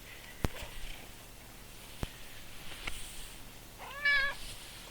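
A black cat lets out one short, clear meow near the end, close by, after a few faint taps and thumps in a quiet room.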